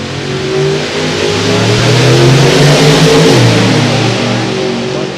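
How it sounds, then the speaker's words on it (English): A 1956 Chevy small-block drag racing car accelerates hard down the strip at an NHRA Hot Rod Reunion drag event, its engine roaring loud and close without a break, the pitch rising and surging for the whole stretch. "But the 56 Chevy of Wade McGee is leading the charge. Small block takes out the big block."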